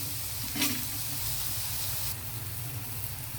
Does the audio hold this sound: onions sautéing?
yes